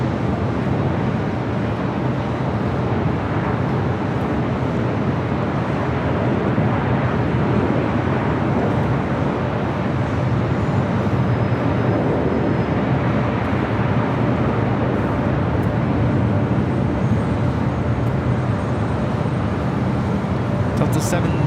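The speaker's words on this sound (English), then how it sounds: "This is Air Canada 554 coming in from Vancouver on a MAX 8." An Air Canada Boeing 737 MAX 8, inbound from Vancouver, lands at Los Angeles International Airport with a steady, loud jet roar and wind rumble that hold for the whole stretch, a voice speaking over it.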